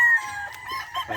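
A Sweater gamecock on a game farm gives a short clucking call close by, loud and brief, with voices murmuring around it.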